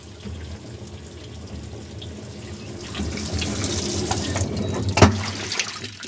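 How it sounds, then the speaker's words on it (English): Water rushes steadily into a washing machine as it fills, a continuous close splashing flow that builds louder, with a brief knock near the end. "we'll let it fill and we'll do a spin cycle or something"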